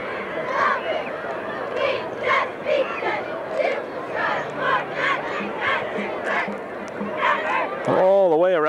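A big crowd at a 1991 high school football game between Williams Valley and UDA mills about, a steady murmur of chatter and shouts close by, with a pulsing horn or siren rising near the end.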